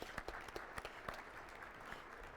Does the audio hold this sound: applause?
yes